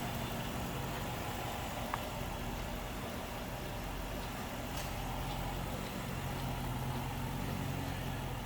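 A 2006 Dodge Charger R/T's Hemi V8 idles steadily with the hood open in a clean engine bay, a low, even, continuous rumble with no voices over it.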